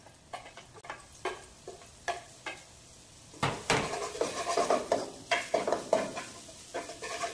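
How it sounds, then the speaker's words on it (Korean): Scallion, garlic and ginger stir-fry in a spoonful of reused frying oil in a pan while making kkanpunggi, giving soft sizzling with repeated scraping and clinking of a utensil against the pan, close and moderately quiet. "팬에다가 식용유를 조금 전에 우리 튀겼던 기름 있죠? 네, 그 기름을 이렇게 해서 한 큰술 정도 둘러주고요. 향신채를 볶아줍니다. 파, 마늘, 생강."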